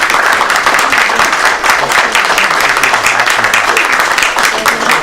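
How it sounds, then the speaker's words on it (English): Audience applause at a public meeting after a call for a round of applause, a steady dense wash of clapping at close range lasting throughout, with no clear talk over it. "so I think we owe Vinny a nice round of applause"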